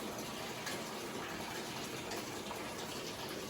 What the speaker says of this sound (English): Still filling up with the water.